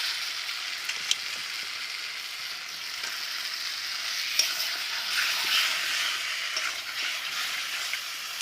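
Goat meat frying in a spice masala, a steady bright sizzle with occasional clicks and scrapes of stirring, no voices.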